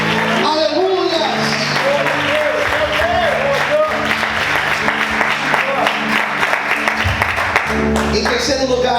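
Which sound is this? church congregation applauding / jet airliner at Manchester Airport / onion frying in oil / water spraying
church congregation applauding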